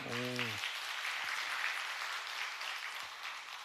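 A church congregation at a Sunday service claps together for a young man just back from military service, a continuous crowd of hands clapping throughout, with a brief spoken exclamation at the very start.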